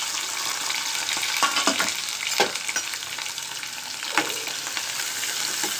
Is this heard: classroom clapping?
no